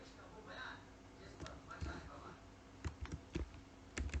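Marquee tag code is typed on a computer keyboard as scattered, soft key clicks that come in short bursts, with someone talking quietly over the typing.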